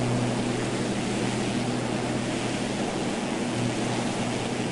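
A propeller airplane flying in a PlayStation 4 video game, heard as a steady, dense engine roar with a low droning hum that stays constant throughout, with no voices over it.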